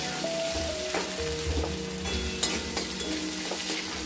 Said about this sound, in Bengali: আলুটাকে আমরা লাল লাল করে ভেজে নেব